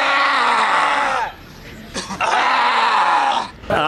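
A loud, strained human scream made with the tongue stuck out during a power yoga exercise: two long, harsh cries separated by a short breathy pause, close and forceful.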